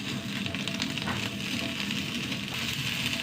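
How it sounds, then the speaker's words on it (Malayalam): Okra dry-frying in a pan without any oil, giving a steady, close sizzle with light crackling that runs continuously throughout with no talk. "എണ്ണയില്ലാണ്ട് വറുക്കണം"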